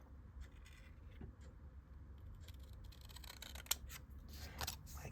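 Scissors snip along the edge of a card in close, quiet cuts over a faint background hum, with one sharp click near the end.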